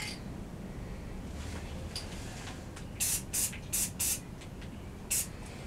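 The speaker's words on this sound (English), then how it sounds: "We're gonna have to paint a second coat on that one, unfortunately." Short bursts of spray painting as a second coat goes onto van parts such as side mirrors and wheels, five or six brief hisses over a steady background hum.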